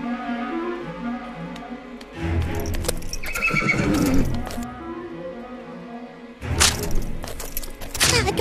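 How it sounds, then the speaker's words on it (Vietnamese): Two large horses in an animated 3D fairy tale whinny loudly, with a burst of clip-clopping hooves and sharp cracks in between, then another loud neigh near the end. "Tôi trông thấy hai con ngựa to quá nên sợ lắm mà."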